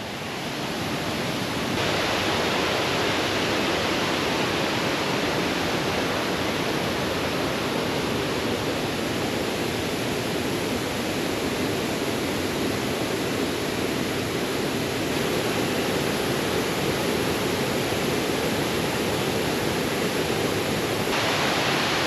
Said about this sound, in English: Let me show you a little bit of footage of this waterfall, which just has so much water.